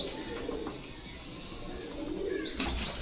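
Pigeons at a pigeon-selling house in Bogura cooing softly amid a low background murmur, with someone talking at the start and voices and bustle near the end.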